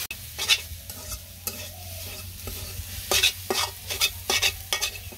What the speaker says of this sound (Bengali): পাট শাক দিয়ে দিছি শাক ভাজি একটু তেল দিয়ে দিলাম তেল দিয়ে নাড়াচাড়া দিয়ে নামিয়ে এলাম